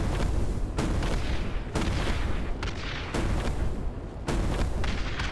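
Repeated heavy shots in Citadel: Forged with Fire, a fantasy game of magic and broomsticks, come as loud booming bursts with sharp onsets roughly every second, each decaying into a thick rumbling tail.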